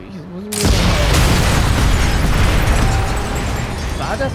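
In the PC co-op shooter Sniper Elite 5, a tank blows up with a sudden heavy blast, then a long roaring rumble that slowly fades over several seconds.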